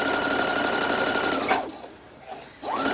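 A sewing machine stitching a quilt seam runs in a steady, close, loud hum, pauses briefly, then starts up again.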